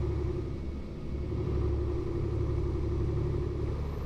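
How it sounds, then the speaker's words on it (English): A Swedish truck engine in a trucking video game drones with a steady, loud, low rumble at a constant pitch, heard alone with no talk over it. "Gosh, I love the sound of this engine."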